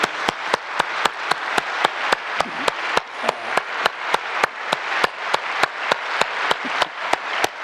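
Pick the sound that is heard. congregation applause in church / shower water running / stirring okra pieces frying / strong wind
congregation applause in church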